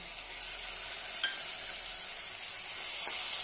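Finely chopped tomato sautés in hot oil in a pan for a spicy vegetable curry, giving a steady close sizzle with soft stirring scrapes and no talking.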